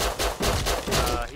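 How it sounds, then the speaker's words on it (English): Rapid shotgun blasts fired at a bear in the video game Rust, about four close, loud reports in quick succession. "if you're gonna shotgun a bear, call that out before I get fucking like pellets in my chest"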